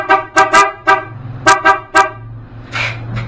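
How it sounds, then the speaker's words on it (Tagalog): Several loud, short horn honks from a Honda ADV scooter's stock horn in quick bursts, then a couple more spaced toots, with a low engine rumble running underneath. "Stock horn."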